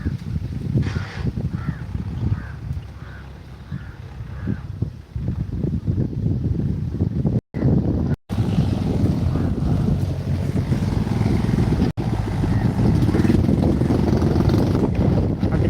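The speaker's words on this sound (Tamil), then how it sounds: "டிராக்டர் சவுண்டு கேட்குதுன்னு பார்த்துட்டு கமெண்ட் பண்ணுங்கள்" A tractor ploughing farmland gives a low, steady engine rumble half buried under heavy wind buffeting on the microphone, with a couple of brief dropouts.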